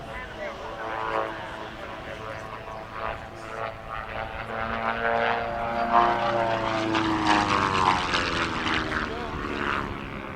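Light 160-horsepower propeller plane flying at the Quinte International Airshow, its engine drone rising and swelling as it passes, with a commentator talking over it.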